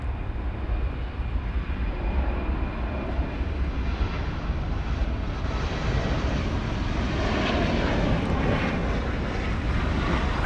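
A Boeing 787 Dreamliner jet airliner at Dallas/Fort Worth airport, its engines roaring loud and steady throughout, swelling slightly toward the end with a broad rumbling wash.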